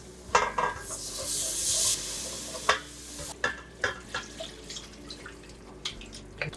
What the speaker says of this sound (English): we're gonna add 6 cups of vegetable broth. You have to mix while you pour this.